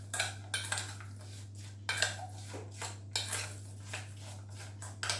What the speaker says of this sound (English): we're going to give that a good mix to get it all coated